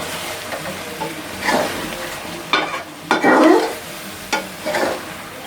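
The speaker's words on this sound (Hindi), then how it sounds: "और अब इसको मिक्स करेंगे।" A spoon stirs and scrapes butter chicken karhai in a hot pan. Several distinct mixing strokes come in bursts over a low, continuous sizzle.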